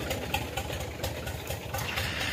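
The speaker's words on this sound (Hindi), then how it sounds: "गड्डी माशाल्लाह स्टार्ट थी चुकी है।" A tractor engine runs steadily to power a grain thresher on a farm, a constant low mechanical drone with a slight rhythmic pulse, close and fairly loud with no talk over it.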